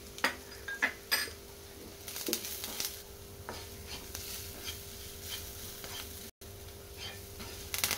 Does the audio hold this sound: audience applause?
no